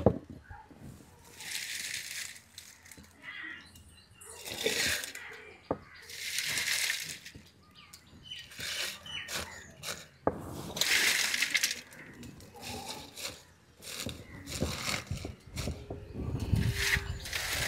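A kitchen mixer grinder grinds chopped palm stalk in bursts, loud whirring and rattling runs of a few seconds each separated by brief pauses, with a clattering, gritty churn as the pieces tumble in the jar.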